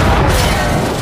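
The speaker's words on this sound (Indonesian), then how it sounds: "ketika Boyce menembakkan pistolnya ke tabung oksigen tersebut, seketika sebuah ledakan hebat terjadi" An oxygen tank bursts after being hit by a pistol shot in a war film, a loud, dense blast that roars without pause for about a second.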